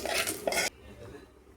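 Fried prawns being scooped from a pan onto a plate, with a short burst of metal scraping and clinking for under a second, then quiet room tone.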